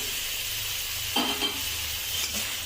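Potato pieces drop into hot oil for a homemade Bengali fish curry, giving a short burst of sizzle and stirring over a steady frying hiss, close and moderately loud.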